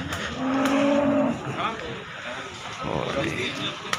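A cow moos once, close and clear, amid jumbo Limousin cattle at Muntilan cattle market in Magelang, with people talking and general market noise around it.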